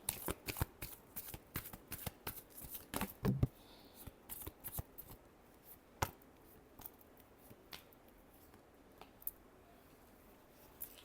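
Tarot cards shuffled by hand in a quiet room, a run of crisp riffling bursts and soft slaps that comes fast at first, then thins to scattered taps, with no talking.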